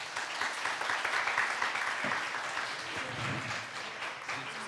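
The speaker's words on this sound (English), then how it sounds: "Can we have a big round of applause for our panel today?" Audience applause for a conference panel on sex work policy, a steady wash of many hands clapping that holds moderately loud and then tapers slightly toward the end.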